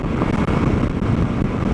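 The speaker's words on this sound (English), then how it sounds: "Gets pretty windy right up in here." Wind roaring over a rider on a 2024 Suzuki DL-800 V-Strom at the edge of the mountains, a constant loud buffeting rush with no talk.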